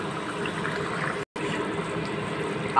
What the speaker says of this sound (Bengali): ভালো করে ঝোল ফুটে গেছে